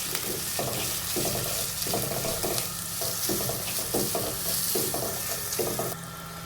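Crushed chilli flakes, turmeric and salt sizzle in a hot pan with a steady hiss, broken by rhythmic stirring scrapes about every half second, close and fairly loud, with no voices.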